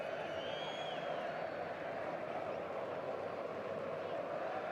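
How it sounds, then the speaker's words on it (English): A stadium crowd at a Barcelona versus Brest Champions League football match whistles at Frenkie de Jong, a steady, dense roar of whistles and crowd noise sustained throughout with no pauses. "there's actually whistles for Frankie de Jong"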